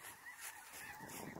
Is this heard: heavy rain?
no